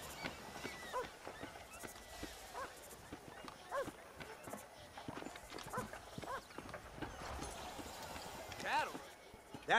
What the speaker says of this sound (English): You see those horses to the left by the building across the street?